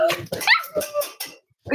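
Several sharp barks and yips from a Cavalier puppy indoors, close and loud, in quick bursts with short gaps and a brief silence near the end.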